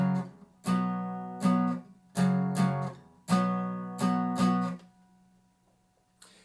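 Acoustic guitar strumming back and forth between two chords in the outro of a song's bridge section, six steady strummed hits in a slow even rhythm, close and alone, ending in a ringing fade.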